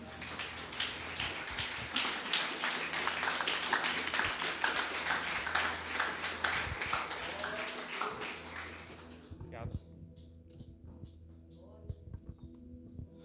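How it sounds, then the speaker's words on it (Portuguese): A church congregation at an evening Portuguese-language service claps together in a dense, sustained burst of applause for about nine seconds, then it drops away to a quieter room with scattered sounds. "Palmas ao Senhor, amém?"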